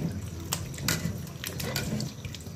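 A tap runs steadily into a sink while vegetables are washed, a continuous close splashing stream with a few brief knocks and handling sounds.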